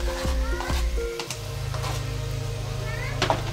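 Onion frying in a pan gives a steady low sizzle that settles in after a brief clatter at the start, with faint background sounds over the top.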